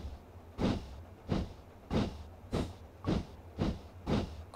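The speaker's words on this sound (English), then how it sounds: "I hear a train." A train in Train Simulator Classic on the Marsdonshire route chuffs in a steady rhythm, about seven evenly spaced hissing beats in a few seconds, clear and moderately close.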